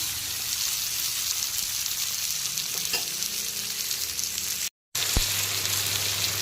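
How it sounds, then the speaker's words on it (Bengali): Yardlong beans fry in oil over a full flame, a dense, steady sizzle with light stirring taps, briefly cutting out to silence for a moment before the frying noise resumes. "বরবটিগুলোকে কিন্তু হালকা করে ভেজে নেব, মানে মিডিয়াম ফ্রাই করে নেব"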